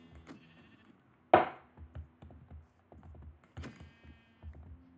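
Sheep in the Minecraft video game bleat in short, clear game sound effects, one sharp louder bleat among several softer ones, mixed with quiet clicking and tapping of keys.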